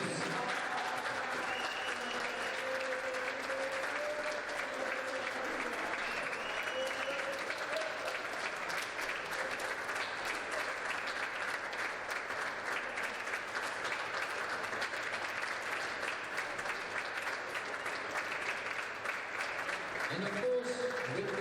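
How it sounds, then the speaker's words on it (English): A large audience at the 2015 World Junior Squash Championships finals applauds the newly crowned world champions, a steady, dense wash of clapping that holds for about twenty seconds with faint voices mixed in. "Give them a nice and big applause."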